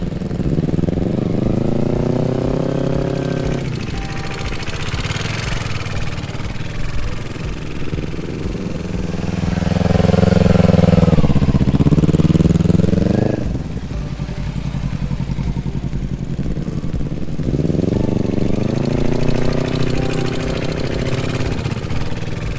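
A motorcycle engine at low speed during slow parking-lot turns, a steady near idle-like rumble that rises in pitch in several throttle swells, one longer louder rev in the middle, with no talk.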